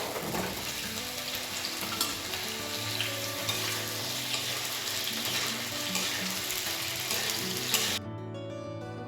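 Steady loud sizzle of pui stems, pumpkin and potato frying in a pan, with stirring scrapes and clinks across the whole stretch before it cuts off abruptly near the end.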